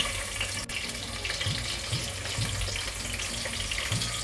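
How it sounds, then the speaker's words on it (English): Chopped onions frying in chive-infused oil for a Manipuri curry, a steady close hiss and crackle running without a break, with no talking. "Now I'm adding my onions."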